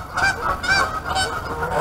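Geese honk loudly and repeatedly in quick overlapping calls as they take off near the water, a close, raucous chorus with no talk over it.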